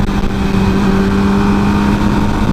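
A 2007 MV Agusta F4 1000R inline-four sportbike engine revs hard and steadily, a loud close mechanical drone held for a couple of seconds.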